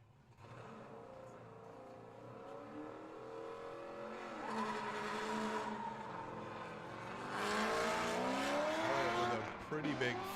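An LS V8-swapped Scion FRS drift car revs hard through a drift-series qualifying run, its engine howling and rising in pitch with tire squeal, loud and continuous while an announcer talks over it.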